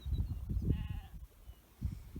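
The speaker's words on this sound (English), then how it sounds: "that's the sheep on the hill opposite that's banging away" Sheep bleat on a hill across the water at a quiet croft on a still day, a distant call or two standing out briefly against soft low rumbling.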